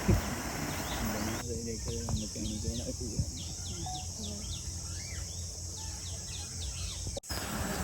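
Birds sing in a forest around a gurdwara, a run of repeated quick chirps and trills at moderate distance over a constant insect-like hiss, with a voice talking underneath.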